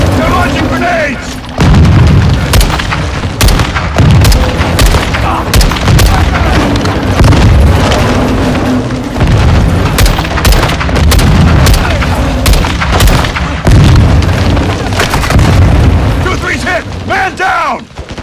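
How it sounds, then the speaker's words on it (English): Grenade explosions and heavy gunfire in the video game Call of Duty Modern Warfare 2, loud repeated booms and rattling shots filling the whole stretch, with shouted voices in between. "Incoming! Take cover! They're launching grenades!"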